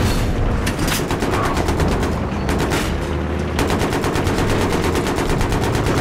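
Rapid machine-gun fire from a tank gunner's position in a military shooter game, in loud, continuous bursts of fast regular shots with brief pauses between them and no talk.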